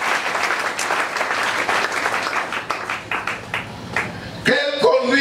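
Congregation at a Sunday church service breaking into steady applause, many hands clapping close and loud for several seconds before a brief sung or spoken tone cuts in at the end.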